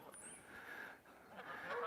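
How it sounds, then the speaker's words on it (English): Canada geese honking outdoors, a steady chorus of overlapping calls that swells toward the end, moderately distant and without talk. "We got Canadian geese."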